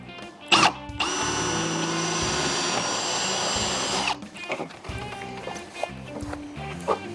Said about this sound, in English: Next thing we need to do is pre-drill holes in the bottom of this track.